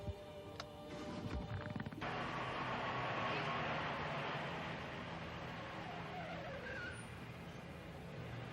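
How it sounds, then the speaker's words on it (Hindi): A car starting up and pulling away, a brief click and engine catch followed by a steady engine and road roar that swells and then slowly fades, fairly faint overall. "अच्छा, चलिए आप गाड़ी शुरू कीजिए"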